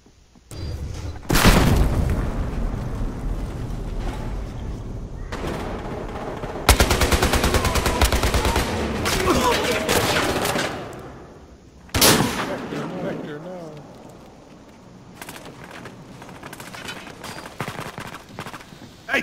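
Heavy gunfire and a booming grenade blast in Battlefield Hardline, dense bursts of shots and explosions rising and falling in waves, with players' voices talking over the combat.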